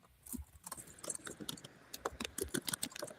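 Fingers type on a computer keyboard in quick, irregular clusters of soft clicks, close but quiet, starting after a brief lull and continuing steadily.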